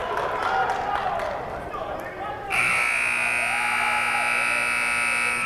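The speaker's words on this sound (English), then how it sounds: "Buzzers are buzzing, fans are booing." A long, steady electronic buzzer blares at a college basketball game between Illinois and Auburn, cutting in after a stretch of noisy crowd and voices and holding loud and unbroken to the end.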